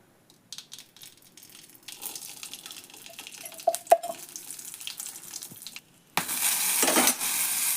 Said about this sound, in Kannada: ಈಗ ಟೊಮೆಟೊ ಹಾಕ್ಕೊಂಡು ತಗಳ ಮೇಲೆ ಮಾಡಿಕೊಂಡು ಹುರ್ಕೊಳ್ಳೋಣ